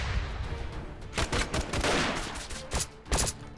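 Rapid bursts of gunfire from troops in a modern guerrilla warfare video game, overlapping rattling shots and volleys that swell and fade in several clusters, fairly close and loud, with no voices.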